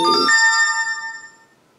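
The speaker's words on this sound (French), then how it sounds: "C'est mon téléphone qui sonne." A mobile phone ringtone rings out loud and alone, a short melodic electronic tone with sustained ringing that fades away.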